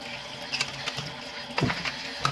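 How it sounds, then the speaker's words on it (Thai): Running water rinsing chicken feet in a home kitchen, a steady close splash and gush with brief louder spurts as the feet are handled, no talking. "เราก็มาทำความสะอาดอีกรอบหนึ่งนะคะ ทำความสะอาดล้างหลายๆรอบนะคะทุกคนล้างให้ สะอาดเลยนะคะ"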